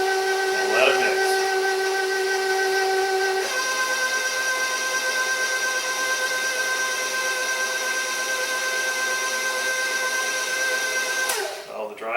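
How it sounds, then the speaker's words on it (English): A stand mixer with a planetary gear works dry ingredients into ice cream sandwich dough, giving off a steady, close mechanical whine with a bright tonal hum that holds evenly for the whole stretch before a brief clatter at the end. "Let it mix."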